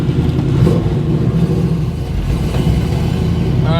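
A car engine fitted with a Street Demon carburetor drones steadily while driving, a loud continuous mid-range rumble with slight revving swells and no talking over it.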